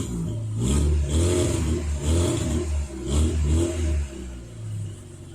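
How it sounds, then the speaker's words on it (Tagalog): A car exhaust with its original muffler rumbling up close as the engine revs in several rising and falling bursts, deep and throaty, with no talking. "Ito pa yung tunog ng tambucho ko nung hindi pa kinakabit yung nabili ko sa online"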